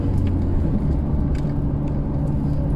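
A car speeds along a road on a trip between Dipolog and Polanco, giving a steady close rumble and whir of engine and tyres that holds throughout.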